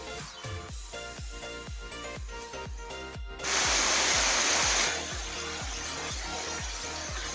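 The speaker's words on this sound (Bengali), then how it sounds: "আমি ওয়াটারফলসের একেবারে সেকেন্ড ধাপে পৌঁছে গিয়েছিলাম।" A waterfall in Meghalaya rushes with a steady broadband roar that swells louder partway through, under rhythmic background music with a regular beat.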